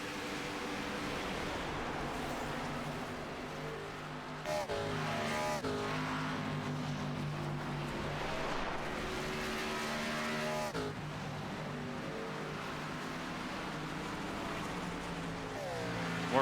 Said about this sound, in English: More cars come around, start finish line.